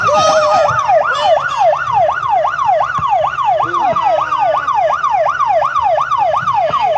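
Police siren sound effect played loud at a pageant talent act, a fast rising-and-falling wail repeating steadily through the whole stretch, with crowd noise faintly beneath.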